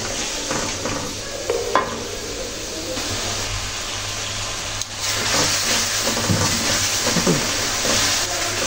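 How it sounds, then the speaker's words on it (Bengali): Green peas and bean seeds being sautéed in a pan for tuna fish curry make a continuous close sizzle, with scattered scraping stirs and clinks over a low steady hum. "মটরশুঁটি আর সিমের বিচিগুলো কিছু সময় নিয়ে কষে নিচ্ছি"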